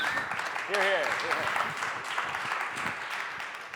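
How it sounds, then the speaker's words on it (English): Audience applause at a bartending event honoring the barback team, a dense steady wash of clapping with voices and a brief cheer mixed in at moderate distance. "So maybe a round of applause for those guys would be cool."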